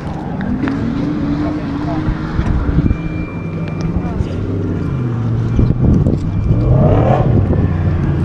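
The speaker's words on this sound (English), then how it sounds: "It's a V8 BMW" A BMW V8 engine runs near a refuelling stop at a car meet, a loud steady rumble with a rising and falling pitch, wind buffeting the microphone throughout.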